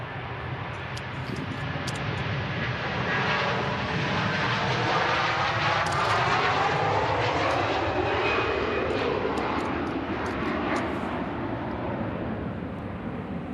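Fixed-wing airliner engines at Manchester Airport, a loud continuous roar with a slowly shifting whine, steady throughout and heard from a moderate distance outdoors.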